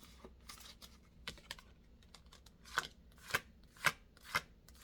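Tarot cards handled and flipped through during a search for one card, giving soft papery rustles followed by a run of sharp, evenly spaced card snaps and taps, fairly close and without any talk.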